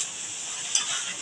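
Boiled chickpeas, pressure-cooked beforehand, stirred into sizzling masala in a pan, a steady close hiss of frying with a brief scrape of the spoon partway through.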